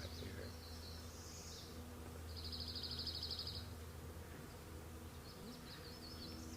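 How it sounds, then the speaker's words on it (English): Bees buzz outdoors in a nature setting, a steady droning hum that swells into one clear close pass midway, with fainter buzzing flickering at the start and end over a low background hum. "bees buzzing is what I hear."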